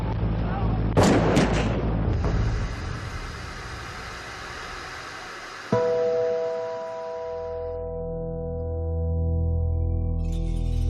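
Gunshots in documentary footage of the Jonestown shooting: a couple of loud, sharp blasts near the start, then a fading rumble and a steady engine-like hum, with a faint voice in the mix.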